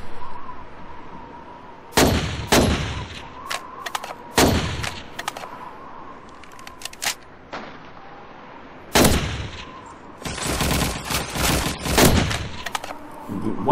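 Assault rifle fire in a video game: bursts of sharp shots come in separate clusters, loud and close, with quieter gaps between them and a dense rapid volley near the end.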